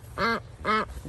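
A pet goose gives two loud, close honks about half a second apart, with no talking around them.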